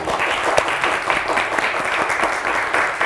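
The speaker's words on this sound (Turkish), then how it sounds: "Bir kuvvetli daha alkış istiyorum" A studio audience on a television word game show claps together in a full, continuous round of applause, even and energetic throughout with a few sharper individual claps standing out.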